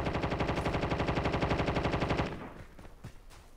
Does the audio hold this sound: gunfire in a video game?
yes